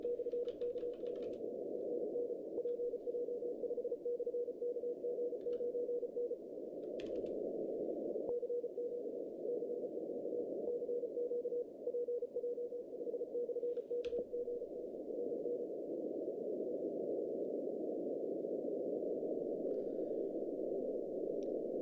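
Rapid Morse code tones from a distant amateur radio station beep faintly over a steady hiss of radio static, fading in and out of the noise.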